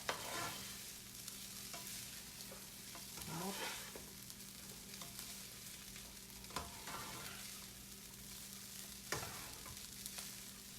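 Fried rice being mixed and stir-fried in a home kitchen pan, with a steady sizzle under repeated scraping strokes of a utensil and occasional sharper clanks, close and continuous with no talking.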